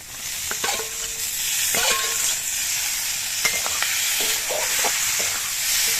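Shrimp rubbed with salt and turmeric fry with onion and spices, giving a steady loud sizzle marked by repeated sharp scraping strokes as the mixture is stirred.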